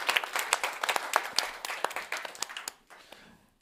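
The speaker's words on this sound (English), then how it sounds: "I think applause" A small group claps in brief applause at a summit, steady then thinning out and stopping after a few seconds.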